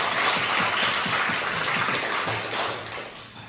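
Congregation applause during a Korean church service, a brief burst of clapping that fades out over a few seconds beneath a low, rhythmic murmur.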